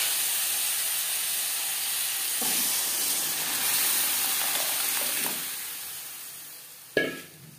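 Boiled moong dal added to lightly fried vegetables sizzles in a pan with a steady hiss that eases off, then a sharp clank near the end, with no voices.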